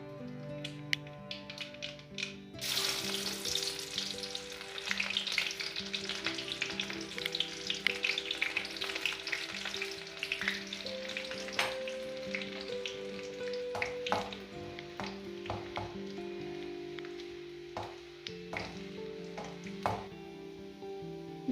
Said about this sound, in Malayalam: വെളിച്ചെണ്ണയിലേക്ക് നമുക്ക് കടുക് ഇട്ട് കൊടുക്കാം.